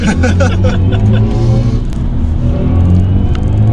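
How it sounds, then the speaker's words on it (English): An electric BMW i4 M50 accelerates hard in sport mode, its synthesized drive sound a loud, steady humming tone with layered harmonics rising over road rumble, filling the whole stretch. "when you turned it to sport, the sound is more aggressive"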